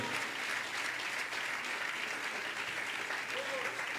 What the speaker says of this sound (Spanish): Come on, just clap unto the Lord.